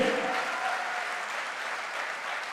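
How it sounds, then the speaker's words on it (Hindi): Audience at a direct-selling promotion event claps for a mentor, a steady dense round of applause from many hands, moderately loud and continuous throughout the short stretch. "एक बार जोरदार तालियां हो जाए अमित सर के लिए"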